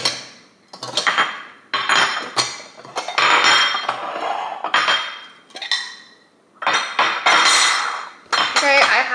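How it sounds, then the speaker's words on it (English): A spoon scrapes and clanks around a metal cooking pot of homemade dog food, giving repeated loud stirring bursts with short pauses between strokes and no talking. "I come back to the pot every like 15 minutes just to stir it"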